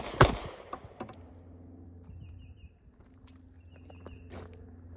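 A single sharp, loud gunshot burst near the start, fired with a Tyrant CNC Hellcat trigger, followed by fainter clicks, handling noises and low rumble over the remaining seconds.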